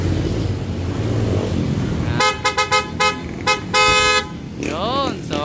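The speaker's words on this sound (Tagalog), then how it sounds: "loud horn." A loud, brassy aftermarket dual horn on a 2021 Aerox 155 blares in a rapid series of staccato blasts, then one longer honk, over a running engine.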